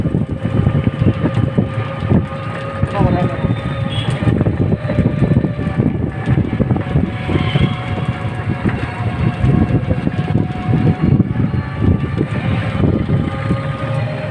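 Continuous rumbling engine and road noise from inside a moving tuk tuk auto-rickshaw, loud and close throughout, with faint higher tones over the rattle.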